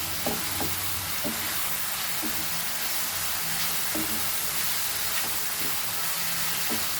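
White peas usal fries with masala in a pan for Goan usal, giving a steady, dense sizzle with faint scattered ticks and pops close by. No one speaks.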